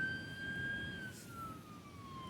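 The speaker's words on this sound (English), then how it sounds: "it looks like there's an ambulance on the beach right now" An ambulance siren wails from a distance on a Los Angeles beach, its steady tones slowly sliding downward over a constant low rumble of surf and wind.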